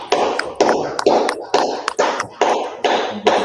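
Hands clapping: seven or eight sharp, close claps in a steady, slightly uneven rhythm, with no talk.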